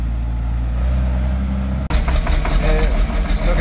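Diesel engine of a John Deere tractor barely running with an air problem in the system, a steady close rumble that cuts out briefly and then returns rougher and uneven.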